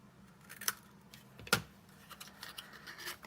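Scissors snipping paper for a Stampin' Up! bow box craft: two or three sharp, distinct cuts with quiet rustling and handling noises between them, close and fairly faint.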